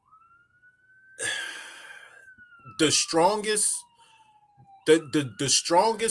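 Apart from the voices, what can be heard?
ambulance siren passing by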